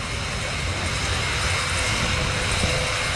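An Avro Lancaster bomber flies over the RIAT airshow at Fairford, a loud continuous roar of piston engines and propellers that holds steady without a break.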